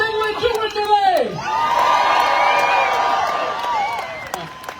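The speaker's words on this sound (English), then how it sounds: "I want you to give a round of applause for Brandell Adams" A crowd at a "No Kings, Just Queens" protest rally in Midland bursts into loud, sustained cheering and applause right after a brief voice, the roar holding steady until it fades slightly at the end.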